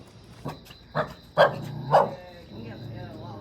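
A dog barks several times in short bursts at night near a convenience store during a trip to Gurye, with people chattering and a steady hum underneath.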